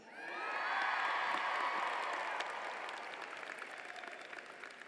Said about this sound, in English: let me hear you cheer